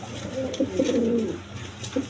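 A big-sized Jacobin pigeon pair in tiger colour coos close by, a rolling low cooing phrase swelling and fading, followed by a short second coo amid light background noise.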